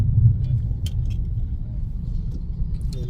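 Steady low road rumble of passing cars, a continuous traffic drone with faint higher clinks and scrapes on top, no voices.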